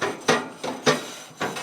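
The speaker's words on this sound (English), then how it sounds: "We're gonna take this grill brush here and just scrape all the goodies off this grill grate" Three rough, rhythmic scraping strokes of a grill brush across a Ninja FlexFlame grill grate, close and moderately loud, with no talking.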